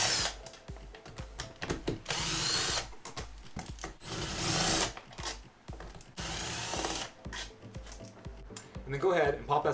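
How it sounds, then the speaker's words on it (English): A power tool backing out 12 mm bolts holding a throttle body to an intake manifold, giving repeated loud whirring and ratcheting bursts with brief pauses between them, close up, with some speech mixed in. "you go ahead and remove the 4 bolts that are holding this throttle body to the intake manifold"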